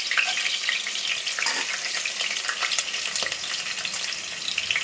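Cashews frying in oil and ghee for katte pongali, a steady close crackling sizzle that runs throughout with small bursts of popping and no talk.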